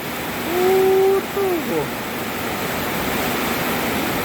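Heavy storm rain pours down with water flowing along the road, a loud, steady roar that continues throughout, while a voice briefly speaks over it near the start.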